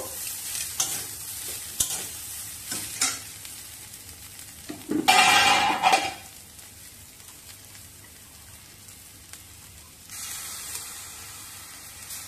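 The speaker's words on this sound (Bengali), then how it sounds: "বাকি আবার ঢাকা খুলে আরেকটু নেড়ে নিয়ে" An ash gourd stem curry is stirred in a pan, with scraping and clattering strokes over a low sizzle, a louder hissing surge in the middle, then quieter bubbling cooking.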